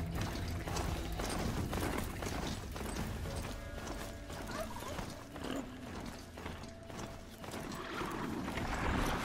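A rideable mount in the video game Horizon Zero Dawn clops along a trail, with steady rhythmic hoofbeats over a bed of ambient game sound, fairly quiet and without talk.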